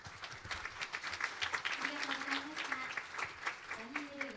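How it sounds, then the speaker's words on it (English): The audience at a children's world peace summit applauds after a speech, with scattered clapping that rises and falls unevenly. A voice speaks over the clapping part of the way through. "Please give a big round of applause again, everyone."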